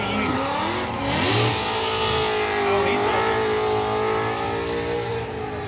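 Monster truck engine revving hard during a race, a loud, continuous roar with the pitch sweeping up and down as the throttle opens and eases, close and sustained with no break.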